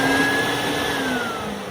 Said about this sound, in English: Turn it on and act like you're vacuuming under a bed.